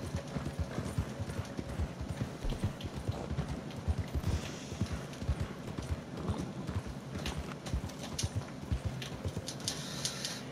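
Horse hooves clip-clop steadily on a hard surface, a continuous rhythmic clatter with some background noise and no talking.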